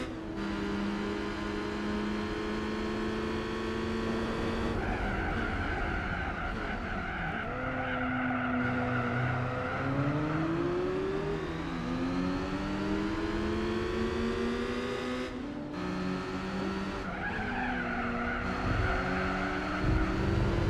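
Race car oversteering and skidding in Gran Turismo 4, a continuous loud engine roar with shifting revs and drawn-out tire squeal running throughout, no talk over it.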